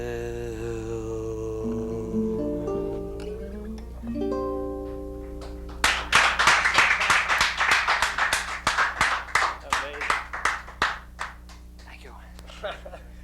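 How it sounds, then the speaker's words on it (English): A small live audience in Somerville breaks into applause partway through, with many distinct close hand claps that build, then thin out and fade while talk continues underneath. "Didn't have to applaud."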